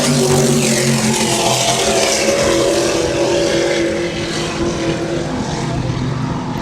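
Offshore powerboat racing engines of the Superboat Extreme class roar steadily and loudly near a harbor turn at the Key West World Championship, a dense sustained drone with no talk.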